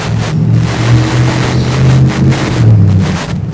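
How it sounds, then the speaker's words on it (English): A car engine nearby, a steady mid-pitched idle hum with slight swells in revs, alone with no voices. "I think that car's engine was interfering with the thing"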